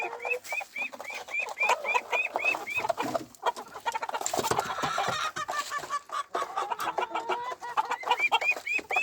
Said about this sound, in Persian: 2 تاش بغلمونه، یه دونش هم مرغ مرندیه. از این تخم زرده میذاره.